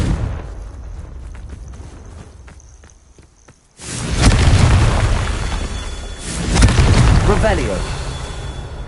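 Confringo fire spells blasting in the video game Hogwarts Legacy: after a near-silent stretch, a loud, deep booming explosion erupts, and a second blast follows a couple of seconds later, with voices and game noise around them.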